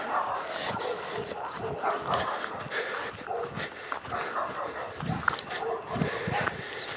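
A dog barks and yips in short repeated bursts against a busy, noisy background, with a faint whimpering quality to some calls.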